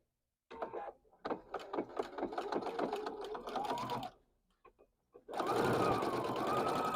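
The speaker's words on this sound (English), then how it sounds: "So let me start sewing this" A sewing machine joins two rectangles of quilting fabric in a few close, rattling bursts of stitching, with a short pause partway through and a steadier run at the end.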